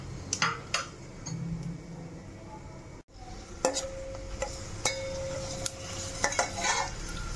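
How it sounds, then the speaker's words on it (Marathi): Whole garam masala spices fry in a spoonful of hot ghee with a soft sizzle, while a spoon clinks and scrapes against the pan in scattered knocks and stirs. "मी 1 चमचा तूप गरम करायला ठेवलेला आहे। यामध्ये तुम्हाला हवं असेल तर तुम्ही जिरं मोहरीही टाकून फोडणी करू शकता"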